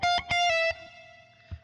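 Electric guitar plays a lick: a quick muted rake of strings then a sustained bent note ringing out, with a faint pick noise after it fades.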